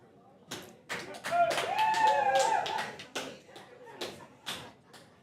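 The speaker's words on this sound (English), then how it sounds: "we've got some cheering happening on the balcony" Spectators on a balcony overlooking a champion-of-champions bowls match cheer and clap. Scattered sharp claps rise into a sustained swell of cheering with a whistle-like call in the middle, then fade back to loose claps.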